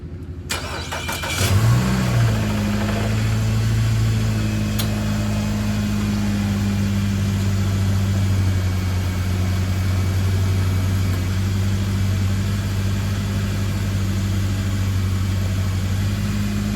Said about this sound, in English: Gonna go ahead really quick, start the car and check for leaks.